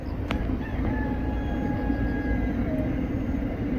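A rooster crows at a distance, its call drawn out over a steady low rumble of a chili pepper dryer and rural outdoor ambience beside rice paddies.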